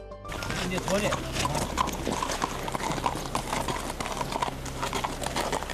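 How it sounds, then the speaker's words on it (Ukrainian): Horses ridden by border guards patrolling the state border line in snow, hooves clip-clopping in a steady walking rhythm close by, continuing under a voice talking throughout. "Тоді навіть самі прикордонники пересідають на коней, щоб оглянути лінію державного рубежу."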